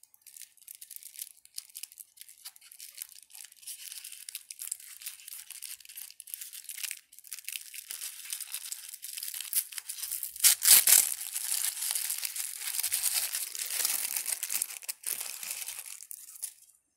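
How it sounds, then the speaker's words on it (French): Paper crinkles and tears steadily as a HeroQuest Rogue miniature figure is unwrapped from its paper packing, with a louder crumpling burst midway and no talking. "Et on retrouve la figurine emballée dans du papier."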